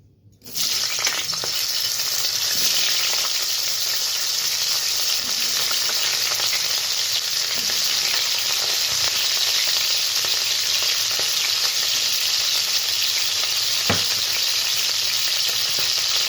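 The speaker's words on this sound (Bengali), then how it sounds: "তেলটা গরম হয়ে গেছে, ফুলকপিগুলো ছেড়ে দিই।" Cauliflower pieces frying in hot refined oil in a kadai: a loud, steady, crackling sizzle starts abruptly and continues unbroken to the end, with no talking.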